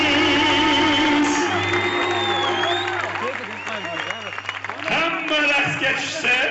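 An outdoor crowd applauds and cheers at a flower festival concert in Namangan, with clapping and shouts rising and falling under a loud announcer's voice over a PA and a steady low hum.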